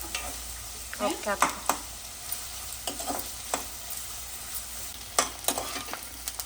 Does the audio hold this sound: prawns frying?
yes